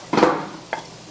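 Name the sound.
onions and meat frying together for Philly cheesesteak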